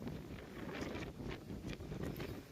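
Wind and rain outdoors during an early monsoon in summer: a steady, low, rushing roar with buffeting gusts against the microphone, continuous and fairly quiet, with no voices.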